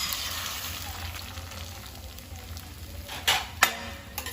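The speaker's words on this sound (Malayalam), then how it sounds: "5 മുട്ട ഞാൻ എടുത്തതാണ്. ഇത് നമുക്ക് ഇതിലോട്ട് ഒഴിച്ചു കൊടുക്കാം." Five eggs are poured into a pan with a teaspoon of hot oil for egg pasta, a steady close sizzle, followed near the end by a few louder splashing, sputtering bursts.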